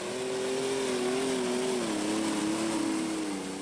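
An orange Allis Chalmers diesel tractor, rumored to run nitrous oxide, roars at a tractor pull with a steady, sustained engine drone whose pitch dips slightly, heard continuously from a distance.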